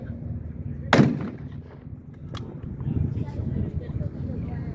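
A single sharp military small-arms gunshot cracks loudly at a live-fire demonstration, followed by a fading echo and open-air crowd ambience with distant murmuring.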